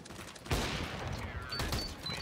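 A gunshot in the Counter-Strike video game on the Cache map, one sharp loud crack with a short burst of follow-up fire over a busy noisy game background.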